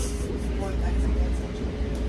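Inside a New York City train during a ride: a steady low rumble and rattle of the moving carriage runs throughout, with a murmur of voices under it.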